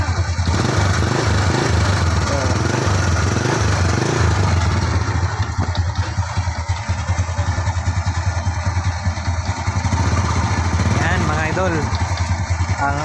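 A motorcycle engine powered by a DIY LiFePO4 32650 battery, push-button started, runs with a loud, close, chugging idle pulse throughout while someone talks over it.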